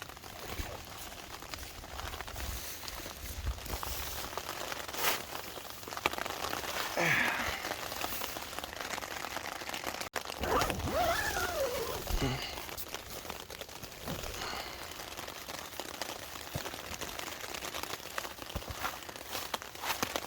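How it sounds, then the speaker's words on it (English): Hard rain drums steadily on the rain fly of a Big Agnes Tiger Wall 2 Platinum tent, a dense, constant patter heard from inside, with brief crinkling and rustling of tent fabric as someone moves. "it's raining really hard now"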